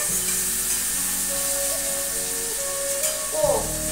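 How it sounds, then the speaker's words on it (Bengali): Chicken pieces fry with browned onions in a pan, a steady close sizzle running throughout with a brief stir or clatter near the end. "এবার আমি চিকেনটা একই সাথে ভাজা করে নেবো"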